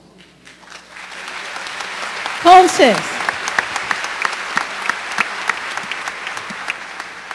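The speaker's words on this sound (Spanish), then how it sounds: "Aplausos." Scattered applause from a church congregation after a sermon, crisp claps rising in a steady patter after a short spoken word and a brief tonal sound, continuing at moderate level.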